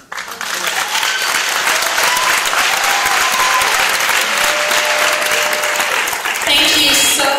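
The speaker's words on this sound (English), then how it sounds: "Another round of applause for a great film." A theater audience at a film Q&A gives loud, sustained applause, dense clapping from many people holding steady for several seconds, with cheering voices mixed in and a fresh swell at the end.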